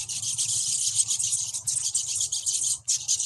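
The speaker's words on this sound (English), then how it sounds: "This is the sound of an experimentally induced mixed species mobbing flock." A mixed-species flock of wild birds mobs in an experimentally induced outburst, a dense, continuous chorus of high, scolding chips and buzzy calls, loud and near, with a low rhythmic pulse underneath and no talk.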